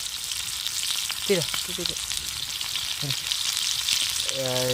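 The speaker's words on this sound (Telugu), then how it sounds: "మన ఫ్రై అయితే ఆల్మోస్ట్ అవుతూ ఉంది లైట్గా ఫ్రై అవుతూ ఉంది" Chapatis fry in a pan at a campsite with a constant bright sizzle, while a few brief voices and tonal sounds cut in at intervals.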